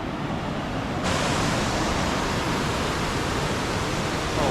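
A nearby waterfall gives a continuous, hissing rush of falling water that jumps louder after about a second and then stays steady and full.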